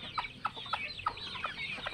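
Chickens cluck in a quick series of short, bright calls, close by with a faint hiss behind them.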